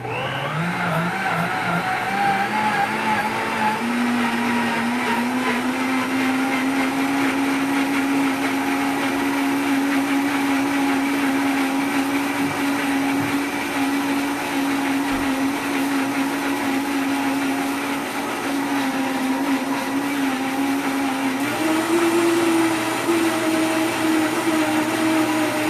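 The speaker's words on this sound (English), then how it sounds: "was using the wrong blender," A blender whirs loudly and steadily while blending creamy potato, its motor holding an unbroken drone for the whole stretch with a slight rise in pitch near the end.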